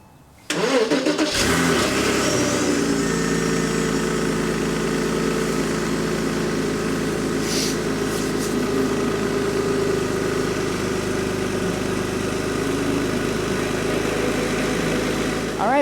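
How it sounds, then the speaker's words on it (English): A Porsche 986 Boxster fires up after a brief crank and catches cleanly, then settles into a steady, even idle that runs on loudly, with a faint voice surfacing partway through. "let's turn on the car"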